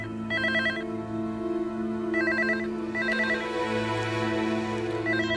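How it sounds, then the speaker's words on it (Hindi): A telephone rings in repeated electronic bursts, three trill groups spread across the span, steady and fairly loud with no talk over it. "फोन बहुत देर से बज रहा है"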